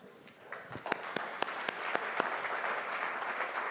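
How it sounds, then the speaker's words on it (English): Audience applause for a guest introduced on stage at a humanoid robot presentation, fairly faint and distant, with a few sharp individual claps standing out before settling into an even patter. "Please give him a round of applause."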